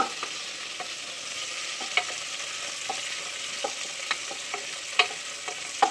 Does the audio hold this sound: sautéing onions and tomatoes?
yes